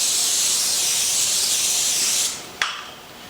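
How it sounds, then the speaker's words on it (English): Steady hissing burst of cooking spray coated onto a pizza pan for about two seconds, close and bright, ending with a short tap of the can. "I just start out by spraying my pan right away"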